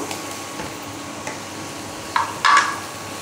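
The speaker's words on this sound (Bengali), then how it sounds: "এবারে দিয়ে দেবো আলুটাকে, দিয়ে দেবো।" Potatoes go into a pan for Bengali khichuri and are stirred, with a soft, quiet sizzle under faint scraping and two short, sharp clatters near the end.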